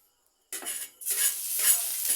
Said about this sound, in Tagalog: So ayan, magigisa na tayo. Una na ilalagay natin yung mantika.